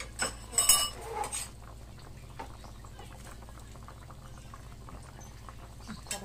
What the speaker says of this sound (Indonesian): Nah, dia udah mendidih,